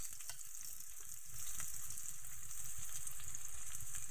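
A pan sautéing for a beef-skin balbacua stew gives off a steady, even sizzle, moderately loud and close, with no talking.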